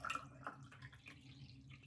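Water poured from a bottle into a small cup at home, a short close dripping, splashing pour with soft background hum and no talk.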